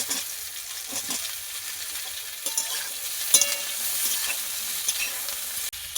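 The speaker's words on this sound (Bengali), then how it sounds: "মূলোগুলো একটু ভাজা হয়ে যাওয়ার পর আলুগুলো দিয়ে দেবো।" Radish and potato pieces frying in hot oil in a wok while being stirred, with a steady broadband sizzle and occasional scraping stir strokes, close and alone without talk.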